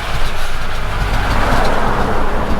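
A Chevy Squarebody truck engine in need of a rebuild runs at a steady idle nearby, a continuous loud rumble with broadband mechanical roar and no talk.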